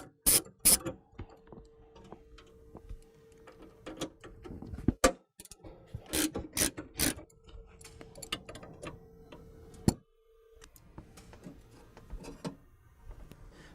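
A hand ratchet clicks in short bursts while bolts come out of the stock airbox mounting plate on a 2009-2014 GM 1500 truck with a 4.8 or 5.3 engine, with sharp close ticks, pauses and metallic knocks between bursts.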